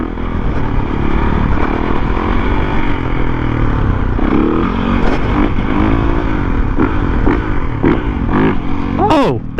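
A Supermoto motorcycle engine revs nearby, rising and falling in pitch through several throttle blips with a loud surge near the end. A voice is heard faintly along with it.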